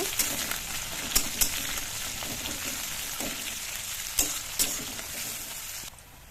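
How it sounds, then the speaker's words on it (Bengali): Chopped onion and garlic fry in hot oil with bay leaf and cumin for a dal fry while being stirred. A steady, close sizzle runs throughout, broken by occasional sharp spatula scrapes and taps. "কুচানো পেঁয়াজ, রসুন, এটাকে নিয়ে নাড়াচাড়া করে ভেজে নিব।"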